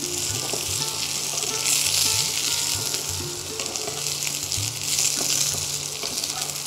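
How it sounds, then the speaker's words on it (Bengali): Potato, pointed gourd and drumstick pieces fry in oil in a pan for Bengali labra, giving a steady, close, continuous sizzle with faint stirring scrapes and no voices. "এই সবজি ভাজা ভাজা হতে শুরু করলে একটা খুব সুন্দর একটা কিন্তু স্মেল আসতে থাকে"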